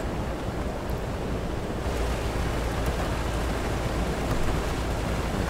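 Steady heavy rain pours without pause in the video game Road 96, with a low thunder rumble underneath and no voices.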